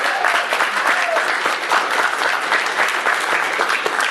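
An audience at a Magfest 2012 convention panel breaks into loud, steady applause, a dense sustained clapping that fills the room throughout.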